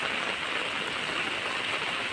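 Heavy rain with big raindrops falls in a village as a dense, steady, loud hiss that stays even throughout, with no voice.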